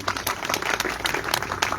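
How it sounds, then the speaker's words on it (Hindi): An audience claps loudly and steadily at the inauguration of a physiotherapy and dialysis centre in Narwana attended by a cabinet minister, the applause dense and sustained throughout. "एक बार जोरदार तालियां इन सब लोगों को।"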